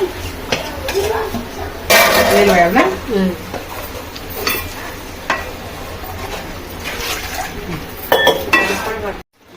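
Ground masala paste from the mixer goes into hot oil in a pan for a fish curry. Loud clatter and scraping of a utensil against the pan come over a low sizzle, with a voice talking at times.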